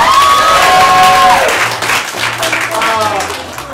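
Audience applause at a Level One student showcase, a steady wash of clapping with some crowd noise, heard beneath a voice speaking and a sustained tone at the start.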